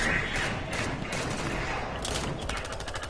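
Fortnite gunfire plays as a rapid run of shots over dense game noise, with the bursts growing more distinctly rhythmic toward the end.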